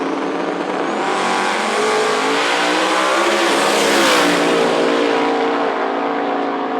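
Drag race cars roar down the strip at Knoxville Dragway, a loud sustained engine howl that swells as the cars pass near and then fades slightly, with no talk over it.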